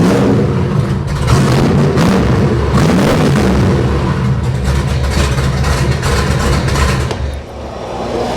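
A 1966 Shelby Cobra's engine running up close, a loud, deep, throaty rumble that stays steady with slight rises and falls, easing off toward the end, with no one talking.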